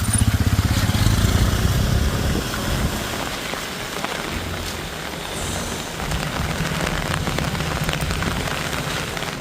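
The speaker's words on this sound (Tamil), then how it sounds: "சென்னை OMR மற்றும் ECR சாலையை ஒட்டிய பகுதிகளிலும் பலத்த காற்றுடன் மழை பெய்தது." Heavy rain driven by strong wind in Chennai, a dense steady hiss of rainfall with low gusty rumble, loudest at the start and continuing without pause, no voices.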